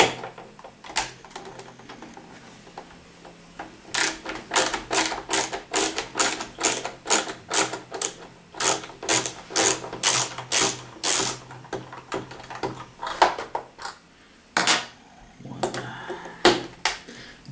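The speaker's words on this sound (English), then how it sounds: "Now we take the screws out." Screws are backed out of an Xbox console with a screwdriver, making a fast run of close, sharp ratcheting clicks in bursts, pausing between screws, with no voices.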